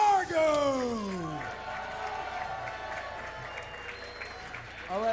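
A crowd at a Smash Ultimate tournament applauds and cheers, a broad wash of clapping that fades gradually. A loud voice rings out over it at the start, and another voice returns near the end.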